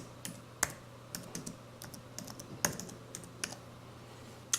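Typing on a computer keyboard while entering title details in music notation software, soft irregular key taps with a few sharper louder clicks, close and clear over a faint steady hum.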